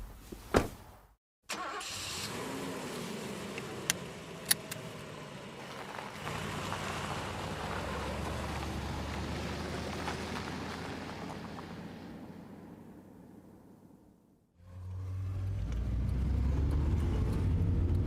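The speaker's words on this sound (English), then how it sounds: "Za gets back into the car and drives away." A car engine starts, then the car drives away in an urban street scene from an audio drama. The engine's rumble holds steady before fading, then a fresh burst of traffic or engine noise rises near the end, with no talk.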